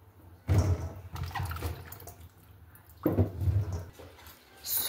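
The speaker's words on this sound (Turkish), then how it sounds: "Güzelce suyun altında ovuşturarak yıkayalım." Olives are rubbed by hand under running tap water and drained, with splashing bursts of water close by and quieter gaps between them, and no talking.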